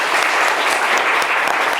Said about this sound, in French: On va applaudir Aïcha